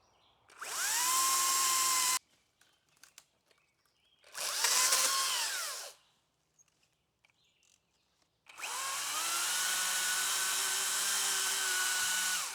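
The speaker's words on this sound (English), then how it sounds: "After that, it was time to start felling trees." Power saw cutting while felling spruce and cherry trees at a forest camp, three loud whining bursts of roughly two seconds, two seconds and four seconds separated by quiet gaps with faint knocks, no talking.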